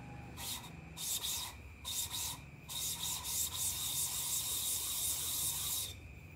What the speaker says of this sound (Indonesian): Kita coba amplas meter.